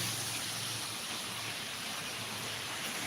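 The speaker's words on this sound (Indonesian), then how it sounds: "terjebak hujan" Steady rain falls during a morning walk, a constant broadband hiss with no breaks and no talk.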